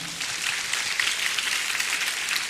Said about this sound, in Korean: 영광과 찬양의 박수 하시겠습니다